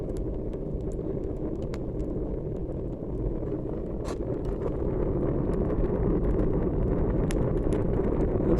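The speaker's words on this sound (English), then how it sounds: "that's how a rocket stove works. Just draws the air down and through the chamber on the inside and up that heat riser" A rocket stove fired outdoors at -30°F roars steadily as air is drawn through its chamber and up the heat riser. The rush is constant and fairly loud, with a few faint crackles.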